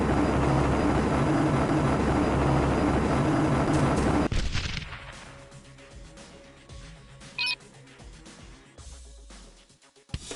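A helicopter strafes with dense, continuous gunfire in the Marvel Ultimate Alliance game, a loud roaring barrage that cuts off abruptly and gives way to quieter game ambience and a few short blasts.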